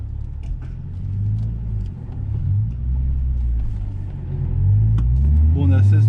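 A Nissan 370Z engine while driving gives a loud, low rumble that swells and eases with throttle, and someone talks over it.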